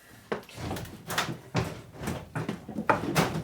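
Cabinet drawers sliding and knocking in a workshop while the cabinet is being moved on wheels, a run of repeated wooden thuds and scrapes at close range, with no talking.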